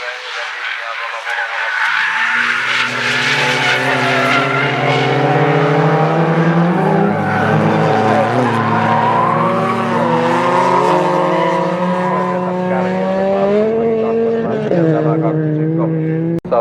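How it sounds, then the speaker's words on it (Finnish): Three or four race cars run side by side at a junior stock car race in Oulu, their engines roaring loud and close in a steady rising and falling drone, with tyres squealing briefly near the end. "siinä nyt mennään 3-4 autoa rinnalla"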